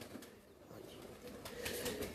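Pigeons on a rooftop give faint, soft cooing with a brief rustle of wings, distant and low under a steady background hum.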